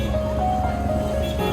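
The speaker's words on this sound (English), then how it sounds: "so much traffic" Busy street traffic in Dharamshala, India, heard as a steady loud wash of engines and road noise with a faint tonal hum running through it, no pauses in the din.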